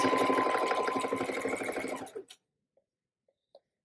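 A sewing machine stitching up the final side of a fabric drawstring bag, a fast steady whir for about two seconds that slows and stops, followed by a few faint clicks.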